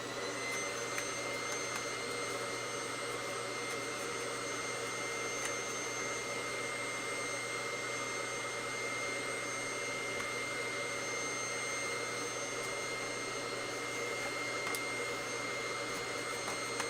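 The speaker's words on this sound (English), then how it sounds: "Let me use a vacuum real quick now that I did all that." A Shark vacuum cleaner runs continuously at a steady, even whine and hum. It is close and unbroken for the whole stretch, with no voices.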